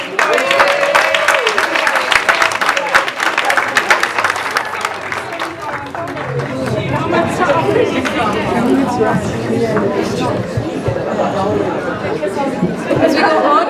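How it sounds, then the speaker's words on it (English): Audience applause at an International Women's Day event, a sustained wash of clapping mixed with crowd chatter and babble, loud at first and settling into steady hubbub with talk underneath. "Please applause"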